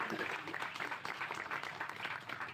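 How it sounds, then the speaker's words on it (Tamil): An audience gives a steady wash of applause for fight master Ganesh during a wedding event speech. The clapping is dense but faint and distant, with no distinct individual claps. "கணேஷ் மாஸ்டருக்கு வந்து தயவு செஞ்சு ஒரு கைத்தட்டல் போடுவேன்"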